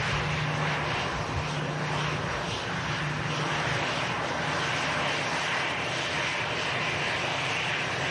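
An EasyJet Airbus A319 roars loudly at Manchester Airport, its jet engines producing a steady, powerful rumble that holds throughout without any voices.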